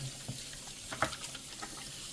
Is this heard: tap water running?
yes